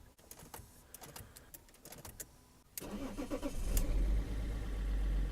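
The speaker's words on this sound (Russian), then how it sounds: "Моторчик, сейчас посмотрим, если будет шуметь." A small electric motor in a car dashboard being switched on during reassembly, a short whir rising to a steady louder hum and rumble that continues to the end, preceded by quieter clicks and handling noises.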